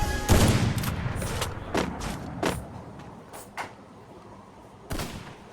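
Gunfire from the Free Fire video game in a one-on-one match: a quick cluster of sharp cracking shots up front, then scattered single reports at intervals, with quieter gaps between.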